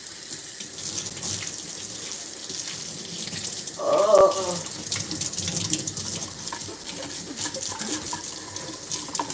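A kitchen sink faucet runs steadily while dishes are washed, with a brief louder splash midway and a short spoken exclamation over it.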